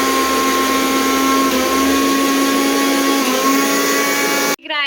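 A kitchen mixer grinder running steadily at high speed, its loud continuous whine holding for several seconds before cutting off abruptly near the end.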